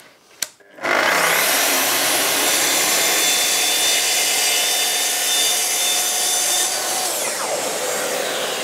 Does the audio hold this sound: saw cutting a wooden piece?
yes